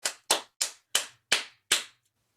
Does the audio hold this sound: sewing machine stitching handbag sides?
no